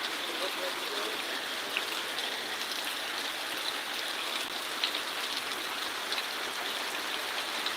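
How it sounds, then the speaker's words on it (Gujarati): Steady, dense rain pours down, a continuous broadband hiss with faint patters and trickling throughout, no voices standing out. "કેવો વરસાદ"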